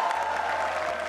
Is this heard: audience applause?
yes